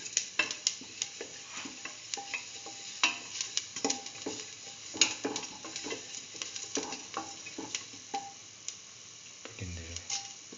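Fennel and coriander seeds fry in a pan with a soft sizzle while being stirred, marked by repeated scraping clicks and taps at an uneven rhythm, all close and fairly quiet.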